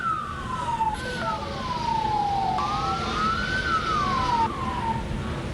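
Fire engine sirens wail during a sausage factory fire started by an electrical short in a frying machine, several overlapping rising and falling tones sounding continuously and fairly loud over low traffic rumble.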